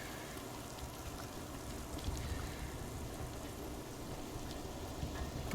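Rain falling in the video game Chronos: Before the Ashes: a soft, even, continuous patter and hiss that stays faint and steady with no other sounds.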